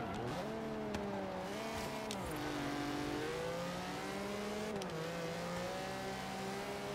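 A classic Lamborghini in Forza Horizon 3 revving hard, its engine note climbing and dropping through gear changes with brief tire noise, loud and continuous with no talk.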